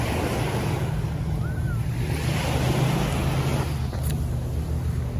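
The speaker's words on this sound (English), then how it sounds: "And this is Gwangali Beach." Waves at Gwangalli Beach in Busan, a continuous broad wash of surf with gusty wind noise across the microphone, steady and fairly close throughout.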